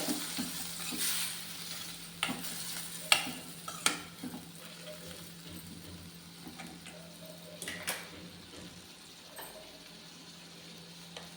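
A spatula stirs a bitter gourd stir-fry with tomato in a pan, scattered scraping clicks and knocks over a soft, quiet sizzle, the strokes irregular and close.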